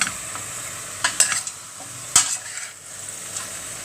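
Chicken pieces brown in hot oil in a pot for tinola, with a soft constant sizzle broken by a few sharp clinks and scrapes of a utensil stirring against the metal.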